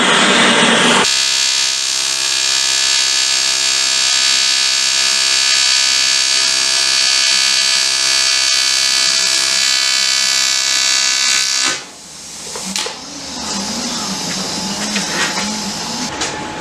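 Welding on an alloy motorcycle swing arm produces a loud, steady electric buzz with a constant pitched hum for about eleven seconds, then cuts out and gives way to quieter, shifting machine noise.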